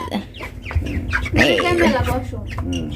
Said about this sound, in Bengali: এই যে এটি মোরগ আর ওই দুইটা হলো মুরগি